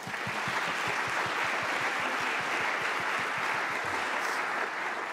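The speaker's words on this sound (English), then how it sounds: "Let's give them a big round of applause." A conference audience gives a sustained round of applause, dense, even clapping from a full room that holds steady throughout.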